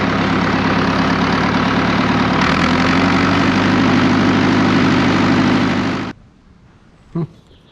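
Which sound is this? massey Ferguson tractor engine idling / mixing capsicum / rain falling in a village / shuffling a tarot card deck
massey Ferguson tractor engine idling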